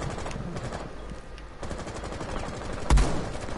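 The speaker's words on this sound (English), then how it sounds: "He's just pre-firing the window." Automatic gunfire in Rainbow Six Siege, a player pre-firing a window, rattles in rapid bursts across the clip with a sharper, louder shot near the end and no talk over it.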